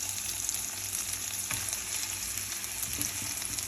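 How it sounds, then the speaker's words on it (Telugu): Paneer frying in hot oil in a pan, a continuous close crackling sizzle with a few soft utensil taps, no voices. "పన్నీర్ ఆల్రెడీ ఫ్రై అయిపోయింది"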